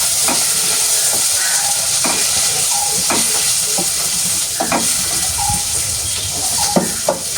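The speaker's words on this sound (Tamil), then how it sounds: "எல்லாத்தையும் போட்டு நல்ல வடிவாக வதக்க வேண்டும்" Onions, fenugreek and tomato sautéing together in a pan for fish curry, giving a loud, steady sizzle with intermittent scraping stirs and spoon taps, no voices.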